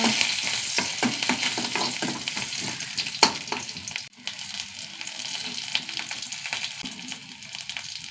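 Onions with a couple of curry leaves fry in a pan for a stew, giving a loud, continuous sizzle broken by stirring scrapes and a brief sharp clink partway through, with no talking.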